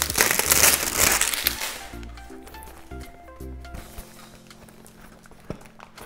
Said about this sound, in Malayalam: ഇത് പൊട്ടിച്ച് നോക്കിയിട്ട് ഇതിനകത്ത് എങ്ങനെയാണെന്ന് നോക്കാം